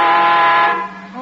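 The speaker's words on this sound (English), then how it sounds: "what are you honking now for?" A car horn sounds as a radio drama effect: one loud, sustained blare held for about a second that then drops away into a quieter tone, with no talking.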